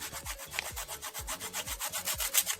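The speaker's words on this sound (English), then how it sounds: "I'm just grating the nutmeg, roughly half teaspoon of nutmeg." Nutmeg rubbed on a hand grater for corn porridge, a steady run of about fifteen rhythmic rasping strokes, close and fairly quiet, with no talking.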